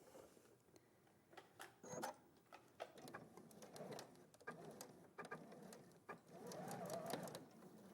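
A quiet sewing machine stitches a seam in short bursts and a longer run, its soft rapid whir fairly close, with light handling noises between runs.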